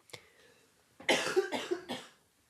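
A single short cough, then a burst of several harsh, close coughs in quick succession.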